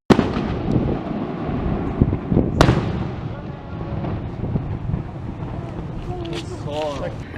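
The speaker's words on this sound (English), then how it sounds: "That wasn't a firework, that's a firecracker." Loud firecracker bangs go off, with one sharp blast standing out, amid outdoor rumble, wind noise and people talking nearby.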